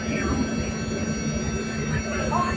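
A Chicago Metra commuter train at La Grange station heading toward Aurora, producing a steady mechanical hum and drone with faint tonal whine, heard from close by on the platform without clear speech.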